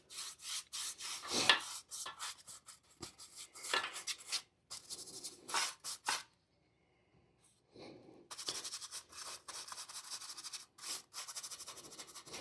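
A cheap brush scrubs primer into the grooves of a rusty boat trailer, giving close, rhythmic rasping strokes in uneven bursts, with a short quiet pause partway through before the brushing resumes.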